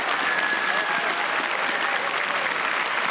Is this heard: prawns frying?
no